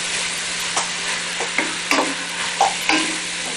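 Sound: beef browning in a pan for fettuccine sauce

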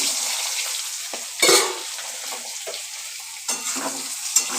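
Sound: stirring fried potato and pointed gourd in oil

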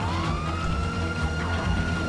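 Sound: vehicle siren in video game GTA V

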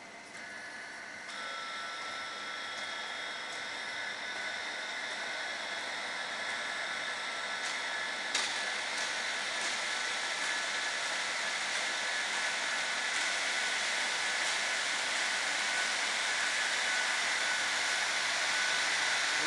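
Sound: Biesse Techno machine drives switched on and running

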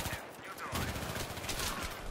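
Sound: gunfire in the video game Battlefield 3

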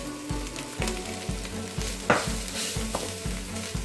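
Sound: rice, green gram and coconut mix stirred in a pan

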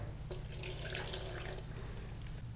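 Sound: water poured into blender for lyutenitsa

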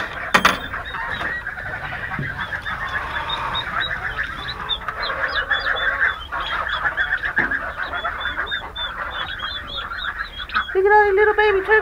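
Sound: turkeys and baby ducks calling

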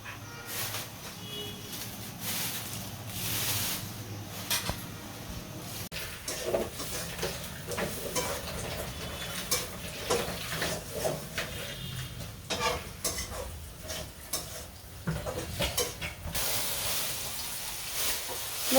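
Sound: greens being stir-fried in a pan

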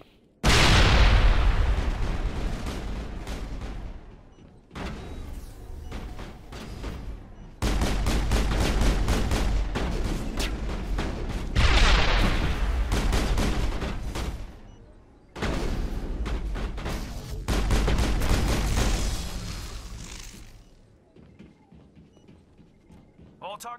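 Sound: gunshots in the Mass Effect video game

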